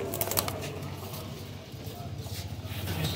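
A pair of old teddy-type breeder pigeons coo softly at close range over steady low background hum and rustle, a continuous murmuring coo without clear gaps.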